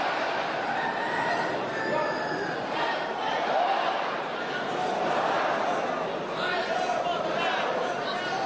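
Roosters squawk and crow at a cockfight in Bali amid a noisy, chattering crowd, the birds' calls rising in bursts over a constant din of voices.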